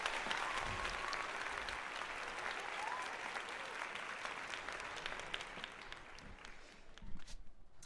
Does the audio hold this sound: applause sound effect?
yes